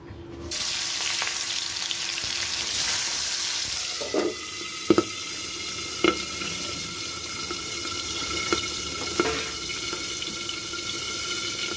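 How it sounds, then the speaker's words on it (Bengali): Boal fish coated in salt and turmeric frying in a pan, giving a steady, close hiss of sizzling oil with a few sharp clinks and scrapes along the way. "আমি বোয়াল মাছটা ঢেকে ঢেকে ভাজবো"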